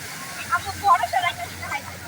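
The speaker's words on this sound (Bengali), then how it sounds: "বড় সড়ো একটা ঢেউ আসছে, তাই না? এই ঢেউটা আরো অনেক বড়" Sea waves wash onto the beach at Cox's Bazar, a steady broad rush of surf with swelling bursts, while people talk and call out nearby.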